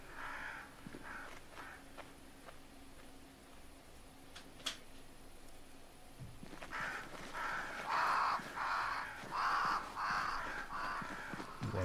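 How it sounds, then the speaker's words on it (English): Crows cawing near a great tree in the video game Banishers: Ghosts of New Eden, with faint calls at first and then a run of loud, close caws over a low ambient background. "Crows."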